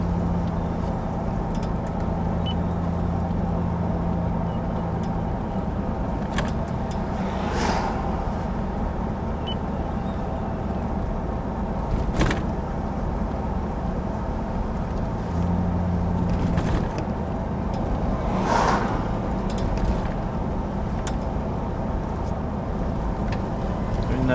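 A car driving slowly around the town of Moree, its steady low engine and road rumble continuing throughout with a few brief louder bumps, with no talk.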